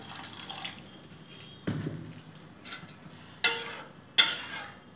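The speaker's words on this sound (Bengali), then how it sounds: "এখন গ্রেভির জন্য জল দেবো।" Water poured into a pan of braised cauliflower curry to make gravy arrives as a few short splashing pours and drips, the last two sharper and louder, with quiet gaps between them and no talking.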